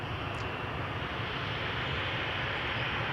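A KLM airliner bound for Birmingham takes off at Schiphol's Polderbaan, a loud, dense, unbroken jet roar up close.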